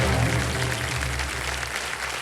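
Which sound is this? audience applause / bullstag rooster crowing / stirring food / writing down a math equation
audience applause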